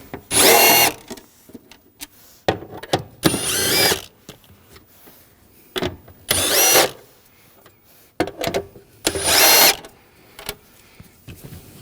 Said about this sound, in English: And using a 10mm socket, we're going to take these nuts off.